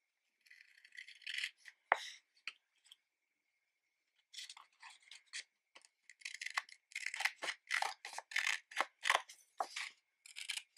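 Scissors snip and trim a small piece of paper off a mini planner page, with close, crisp cuts and paper rustles that come in bursts, a pause, then a run of rapid snips.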